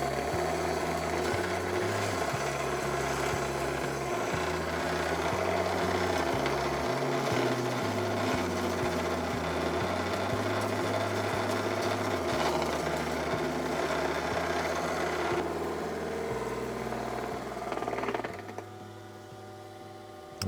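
A polishing machine works a geode with aluminum oxide abrasive, making a loud, continuous motor drone with a wavering, pulsing low hum as the rock shifts, then easing down near the end, with no talk.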